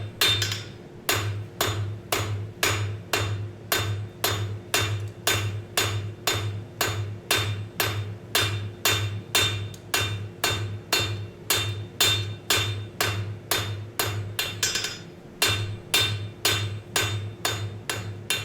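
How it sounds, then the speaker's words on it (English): Hot metal is hammered on an anvil while forging, drawing the stock down: loud, close, regular hammer blows in an even rhythm with a brief pause near the end. "Back to the anvil. So I'm going to just continue to draw this down."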